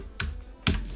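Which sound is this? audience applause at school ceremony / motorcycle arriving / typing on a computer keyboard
typing on a computer keyboard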